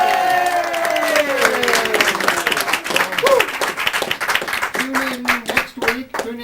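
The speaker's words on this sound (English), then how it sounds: "Big cheer for all of the clowns." An audience claps and cheers for a troupe of clowns, a dense burst of applause that thins into scattered individual claps, with some talking and a few voices mixed in.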